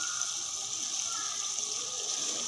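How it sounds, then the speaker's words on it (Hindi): Water poured into an aloo gobi curry of potatoes and cauliflower already fried with yogurt, giving a steady, close hiss and gush that stays even and fairly loud throughout. "अब हम इसमें थोड़ा सा पानी शामिल करेंगे।"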